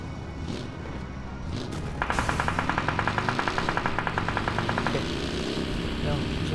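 Gunfire in PUBG Mobile, a steady rapid rattle of automatic shots lasting about three seconds over a running vehicle engine, with a voice talking over it.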